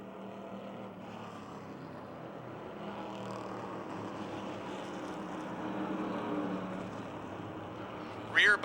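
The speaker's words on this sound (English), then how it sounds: "Door-to-door racing, Ford versus Chevrolet in the battle for fourth." Ford and Chevrolet stock cars race side by side at Motordrome Speedway, their engines a steady droning roar that swells slightly near the end, heard beneath a race commentator's voice.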